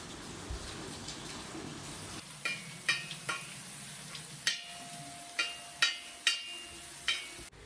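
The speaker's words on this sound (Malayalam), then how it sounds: "ഇനിയിപ്പം ചിക്കനും കൂടെ അവിടെ പൊരിക്കാൻ വെക്കാം." Chicken pieces fry in hot oil in a home kitchen, giving a soft steady sizzle broken by a series of sharp crackles and pops, with no talking.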